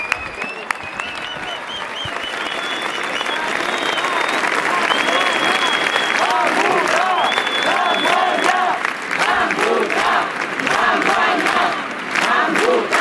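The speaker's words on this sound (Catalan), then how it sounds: "Un aplaudiment per tots ells i moltes gràcies per fer possible aquestes votacions." Sustained crowd applause fills a rally in the Mercadal square marking the first anniversary of the 1 October vote, with dense clapping and scattered cheers and shouts running steadily throughout.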